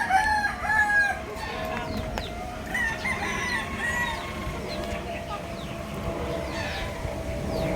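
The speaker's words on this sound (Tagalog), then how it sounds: "Bantam guys, white bantam." A white bantam chicken in a small backyard farm crows and clucks amid other fowl, with steady background noise and people talking nearby.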